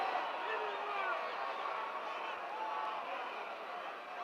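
A large crowd at a 1969 professional wrestling match cheers Wild Bull Curry, a steady, dense roar of voices sustained throughout without breaks.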